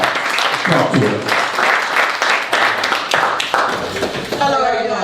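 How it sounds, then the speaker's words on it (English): Applause from a community audience at a youth forum, thanking the young hosts: dense, steady clapping across the whole span, with voices mixed into the crowd noise and a louder voice rising near the end. "Let's give these youth a round of applause for coming out"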